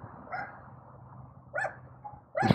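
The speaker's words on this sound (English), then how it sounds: "That's my neighbor's dog." A neighbor's dog barks outdoors, three short barks spaced apart, the last one closest and loudest, over faint background hum.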